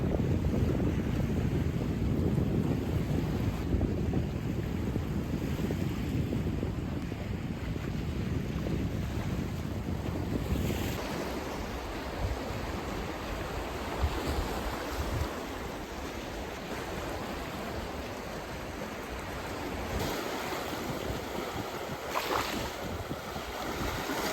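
Seaside on Jeju during a walk: waves wash and break continuously while gusty wind buffets the microphone, the roar easing somewhat partway through, with no talking.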